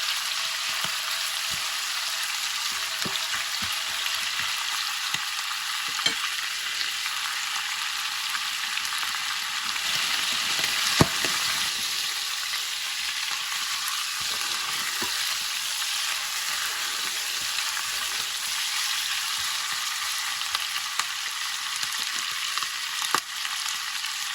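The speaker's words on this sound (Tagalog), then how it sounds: "Haluin lang natin guys para parehas yung pagkaluto." Paksiw na baboy, pork stewing in a pan, is stirred: a continuous bubbling sizzle runs throughout, with soft scraping and clinking from the utensil recurring now and then.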